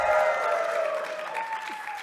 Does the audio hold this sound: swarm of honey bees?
no